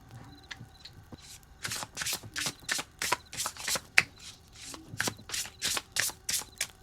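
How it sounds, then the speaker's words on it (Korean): A deck of tarot cards is shuffled with rapid riffling and soft flicking bursts, close and fairly quiet, with brief pauses between rounds and no talking. "이 카드 덱으로 카드를 뽑아볼게요"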